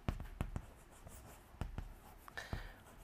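Pen writing out a maths solution on paper, with soft scratchy strokes and light taps in an irregular rhythm, close and quiet, with no voice over it.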